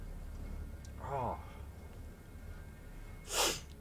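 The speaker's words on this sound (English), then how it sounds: "I gotta blow my nose, man. This nose is driving me nuts." Two short, close snorting sniffs through a dry nose, the first a quick nasal pull and the second a sharper, louder snort a couple of seconds later, over faint background hum.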